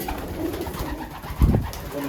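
Pigeons coo softly with low, throaty murmurs in a loft, including a tiger grizzle hen, and a louder coo rises briefly near the middle over a faint background hum.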